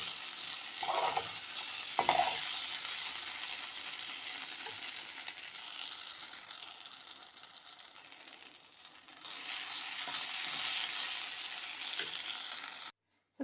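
Mint and onion chutney hits hot tempering oil, giving a steady faint sizzle with a scraping stir early on, then the frying hiss rises again toward the end before cutting off.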